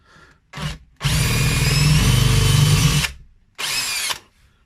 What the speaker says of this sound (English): So again, mark my drill so as I'm not going in too deep.